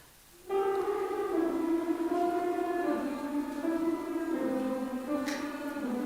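A women's chorus in a vocal workshop imitates a siren together, a sustained multi-voice tone swelling in at once and gliding slowly downward in pitch, loud and steady throughout.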